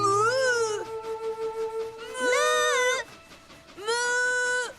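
Cartoon cows moo back in reply, three long, tonal, wavering calls separated by short pauses, each fairly loud and clear with nothing else heard.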